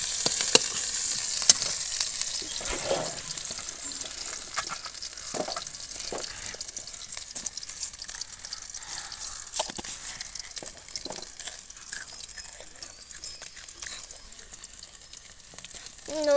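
Onions frying in a pan for kushila greens, with a steady close sizzle and occasional stirring scrapes throughout, with no voices.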